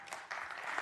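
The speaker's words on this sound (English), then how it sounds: "No clapping." Scattered audience clapping in a county commission meeting room, a few hands starting softly and then swelling briefly into a short, fairly faint burst.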